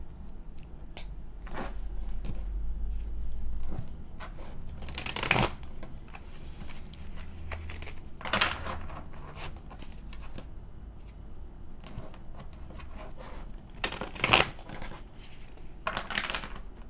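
Traditional tarot cards are shuffled over a long stretch: soft, close riffling and papery slides, with occasional sharper snaps and taps as the deck is handled, and no talking.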